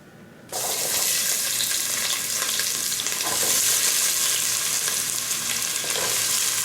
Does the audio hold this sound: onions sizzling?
yes